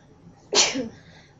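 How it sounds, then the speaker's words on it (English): A single sharp sneeze bursts out close by, loud and sudden against a quiet background. "I'm going to sneeze."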